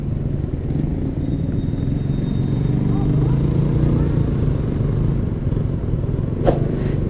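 A 2022 Honda Vario 160 ABS scooter motors along town roads at a steady, even drone with wind rumble, a brief clatter near the end, and a rider talking over it.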